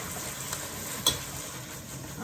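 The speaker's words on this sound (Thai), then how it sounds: "เราผัด เนื้อเนี่ยเราอย่าไปผัดนานครับยิ่งผัดนานเนื้อมันจะยิ่งแข็งนะครับ" Beef sizzles and crackles in a hot wok as it is stir-fried for a Thai basil dish, a steady close frying hiss with one sharp clack of the spatula against the pan partway through.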